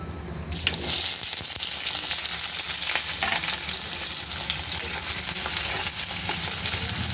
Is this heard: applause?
no